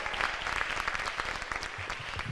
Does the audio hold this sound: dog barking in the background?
no